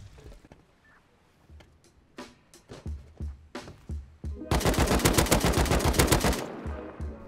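AK rifle gunfire in the game Rust: scattered single shots and short bursts build into a loud, sustained stream of rapid automatic fire, then break off into a few isolated cracks.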